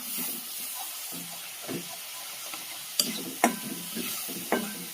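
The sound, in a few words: stirring spices frying in a pan for garlic pickle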